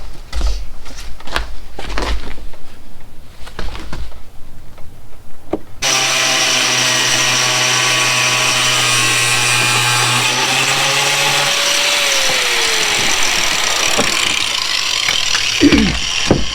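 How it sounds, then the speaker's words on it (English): A cut-off wheel grinds through plastic while a Jeep WJ hidden winch mount is fabricated. Sharp intermittent bursts give way to a loud, continuous high whine, whose pitch sags partway through as the wheel bites harder, with no talking. "Cutting plastic with a cut-off wheel is kind of like digging a flower garden with an excavator"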